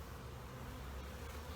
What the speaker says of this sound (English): Honeybees, these guys pretty much eat pollen as their protein source.